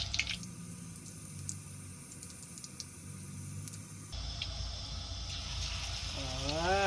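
Pabda fish frying in hot oil in a village-style kitchen, a quiet steady sizzle that swells louder partway through as more fish go in, with faint clinks and no speech.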